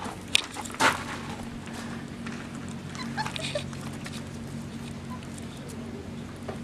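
Soft, brief whimpers from five-week-old puppies over a steady low hum, with a couple of faint yips and some light shuffling nearby.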